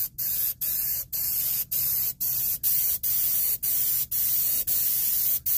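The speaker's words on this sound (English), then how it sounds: "So what we would have to do is take it and spray it with something" Continuous loud hissing spray from an aerosol can in repeated bursts, each cut by a brief pause, about ten even bursts in a steady rhythm.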